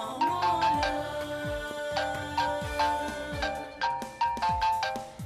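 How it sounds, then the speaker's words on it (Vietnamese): A phone ringtone plays a repeating melodic tone pattern, loud and clear, with no talk over it. "tôi có điện thoại."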